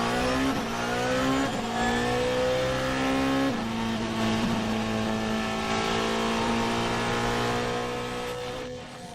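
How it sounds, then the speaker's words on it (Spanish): A Porsche 919 race car on a record lap, its engine screaming loud and steady as the pitch climbs and drops sharply through several gear changes, then fading slightly at the end. "La maravillosa vuelta del Porsche 919, el récord de Normandy."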